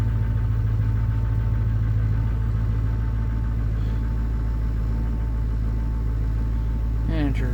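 An LBZ diesel truck engine idles after a cold start in sub-zero weather, a steady low rumble with a slightly uneven beat, holding constant for several seconds before a brief rising whine at the end.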